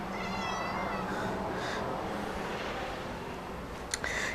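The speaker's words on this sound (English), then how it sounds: "That was the kitten, if you could hear her." A kitten meows a few times in a quiet room, high-pitched and fairly close, with faint background hiss and no talking.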